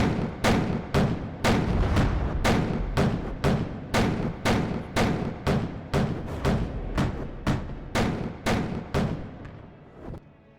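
Ship weapons firing in the video game From the Depths, a loud steady series of about twenty heavy booming shots at roughly half-second intervals, each with a short rumbling decay, gradually fading slightly toward the end.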